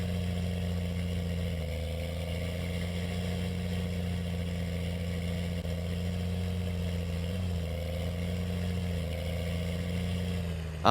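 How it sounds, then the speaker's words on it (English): A 7930 tractor engine in Farming Simulator 19 runs at a steady idle, a constant low droning hum with even tone throughout, close and alone with no talk. "I'll have to say this 7930 does have a really nice sound to it."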